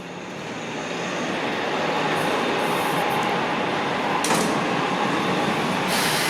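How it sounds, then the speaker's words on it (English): A Nova LFS hybrid bus of the Toronto TTC pulls away from a stop, its engine and hum swelling over a couple of seconds into a steady broad roar that holds at moderate distance, with no talk. "there's the hybrid I was on, just leaving, heading back to"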